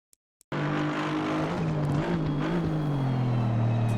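An Aston Martin V8 GT3 race car laps Donington Park in Assetto Corsa Competizione. After a half-second of near silence, the engine roars in loud and steady, its pitch rising and falling through gear changes.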